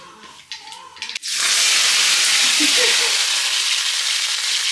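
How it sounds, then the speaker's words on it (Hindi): Mustard seeds, fennel and cumin crackle in hot olive oil for a tempering: after a brief quieter start with some voice, a loud, steady, close-up sizzling hiss takes over and holds to the end. "ये राई चटक गई है"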